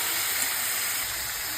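Marinated mutton hits a hot pan and sizzles with a continuous, even hiss of frying, steady and moderately loud throughout with no talk.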